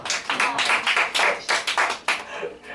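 Scattered clapping from a church congregation during a sermon, uneven bursts of hand claps in an irregular rhythm, moderately close and fairly quiet, with no voices over them.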